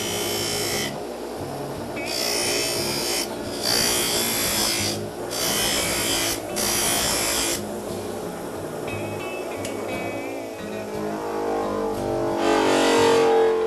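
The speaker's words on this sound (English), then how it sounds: "we're going to do the same thing on the polishing wheel" A knife is pressed flat against a spinning polishing wheel at a forge, giving a buzzing, grinding whir that swells and drops in repeated passes, close and fairly loud with no voices.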